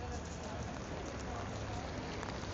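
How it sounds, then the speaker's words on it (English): Light rain falls outdoors in Benidorm, a steady soft hiss of drops on wet surfaces, continuous and fairly faint with no distinct voices. "The rain started to come down, just a little"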